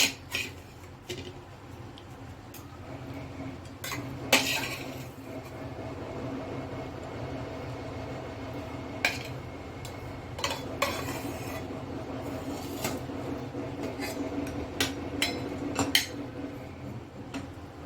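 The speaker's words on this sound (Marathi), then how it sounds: "आता आपण ही भाजी प्लेटमध्ये काढून घेऊया।" Cooked cluster bean curry (gavarichi bhaji) scraped from a pan onto a plate, with scattered metallic clinks and scrapes of a spoon against cookware over a steady low background hum, no talking.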